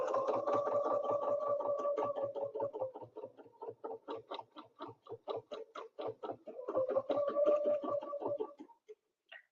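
Sewing machine quilting a snowflake ruler pattern, double stitching along a template line on a quilt; a steady fast run of mechanical stitch clicks with a humming motor, pausing briefly and resuming before stopping.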